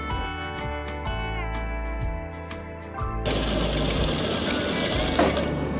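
A sewing machine stitches an overlap neck seam on a garment, starting with slow, uneven bursts of motor whirring and clicks, then running in a steady, louder continuous hum, close by with no speech.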